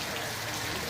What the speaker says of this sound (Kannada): ಬಂದಾಯ್ತೇನೆ ಭಾರಿ ಮಳೆ